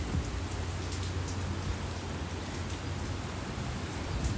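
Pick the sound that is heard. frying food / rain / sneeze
rain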